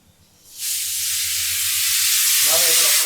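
A pressure cooker cooking mutton and potatoes suddenly lets out a loud, sustained steam whistle. The hiss begins abruptly after a quiet moment and keeps blasting steadily, with a wavering tone rising near the end.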